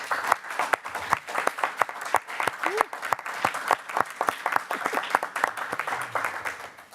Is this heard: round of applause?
yes